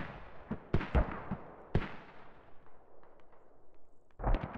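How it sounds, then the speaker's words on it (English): Several sharp propane tank mortar blasts ring out in succession, each a loud crack followed by a rumbling decay, with a final burst at the end. "That explosion, just so good."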